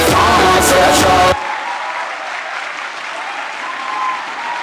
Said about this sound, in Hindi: आपकी तालियां बता रही है कि बहुत ही उम्दा प्रस्तुति थी।